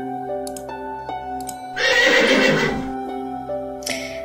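A horse lets out one loud, shaky whinny up close, sounding over a steady background of sustained musical tones.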